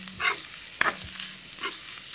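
Fish and previously fried potato pieces are stirred in a pan: a few close spatula scrapes with one sharp clack, over a light sizzle, with no talking.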